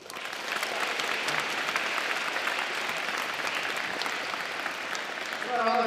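A high school concert audience gives a graduating senior a full round of applause, many hands clapping loudly and continuously, with a faint voice and tones emerging near the end.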